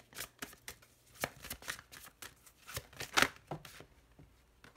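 Tarot cards being shuffled by hand, a series of crisp riffling bursts at an uneven rhythm, close and clear with one louder flurry near the end.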